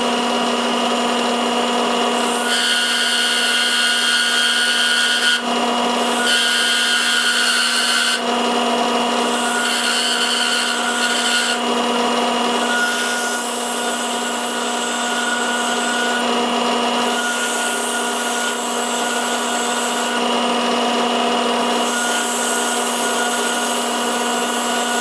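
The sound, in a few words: small parting chisel cutting fine groove in maple honey dipper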